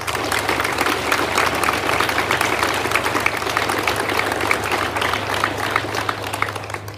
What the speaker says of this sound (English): let's give your folks a round of applause, please